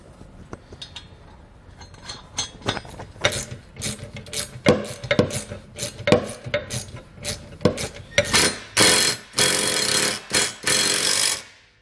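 Nuts and bolts, including nylock nuts, are tightened on step mounting brackets for a Carr Transit step on a 2016 Ford Transit T250 cargo van: a close run of sharp ratcheting clicks and metallic bursts, growing denser and louder toward the end, with no talking.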